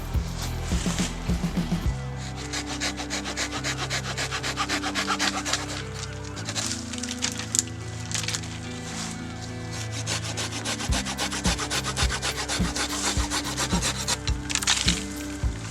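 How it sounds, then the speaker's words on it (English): Hand pruning of mountain ash branches to cut sticks for a shelter, continuous close woody sawing and rubbing strokes with creaks and snaps, loud and steady throughout, no voices. "I've done some hard pruning of some mountain ash"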